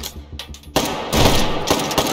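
Gunshots crack in the VR shooter H3VR during an Escape from Tarkov style fight, with a few sharp reports at first and then a loud sustained burst of rapid fire, close and dense.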